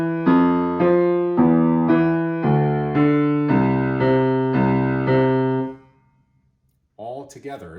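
A piano plays a simple beginner duet part, eight evenly spaced single notes with hands alternating left and right, each ringing and decaying before the next, then a short pause and a voice begins speaking.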